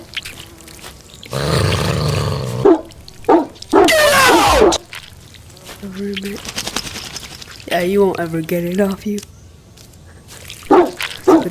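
A dog barks in the VR game I Am Cat VR, with a run of several short barks in the middle of the stretch, heard over people talking.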